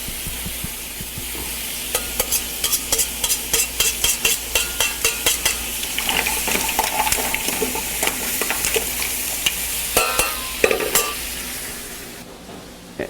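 Garlic sautés lightly for bouillabaisse, a steady frying sizzle under a quick regular series of spoon scrapes and taps against the pan, close and fairly loud, easing toward the end.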